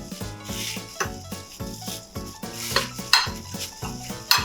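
A spoon stirs a dried basil, salt and black pepper mixture for coating sea bream, with brisk repeated scraping and clinking against a bowl in a close, steady rhythm, with no one speaking.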